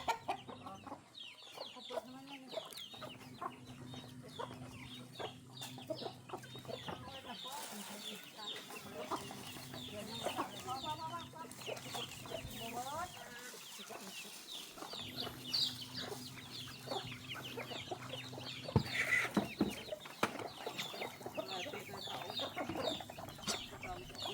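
Chickens and ducks cluck and chatter continuously at close range on a rural farm in the evening, with occasional louder squawks and a low droning background throughout.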